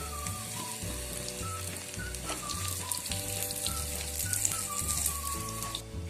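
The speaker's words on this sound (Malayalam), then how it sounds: "ഇനി നമുക്ക് കൊല്ലമുളക് ഇടാം." Dried red chillies and mustard seeds sizzle in oil for a Kerala beef pickle, a soft, steady crackle close by, partly under light background music.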